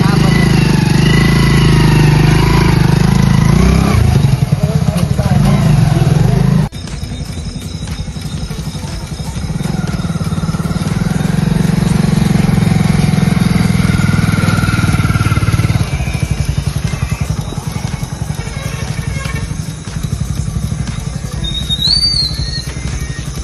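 A motorcycle engine runs steadily and loudly at close range throughout. The tone shifts slightly partway through, and voices can be heard faintly over the engine.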